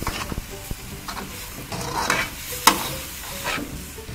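Spicy shark meat stir-fried in a pan, with sporadic scraping and stirring clatter over a low background sizzle, including one sharp utensil knock partway through.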